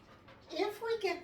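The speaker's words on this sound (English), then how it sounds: "he's panting pretty heavily, that's a stress pant" A stressed dog panting heavily in quick breathy bursts, close by, with a person talking over it.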